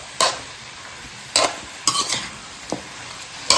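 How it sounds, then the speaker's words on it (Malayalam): A spoon scrapes and clanks through a meat mixture in a cooking pan in four or five separate strokes over a soft background sizzle, with no voices. "നമുക്ക് നല്ലോണം മിക്സ് ചെയ്ത് ഇനി അടച്ചു വെച്ച് വേവിക്കണം"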